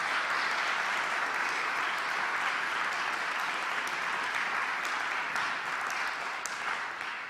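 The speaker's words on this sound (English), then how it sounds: "Can we just give a round of applause to Paul" Steady, dense applause from a conference audience fills the room, continuous and fairly even for several seconds without any voices over it.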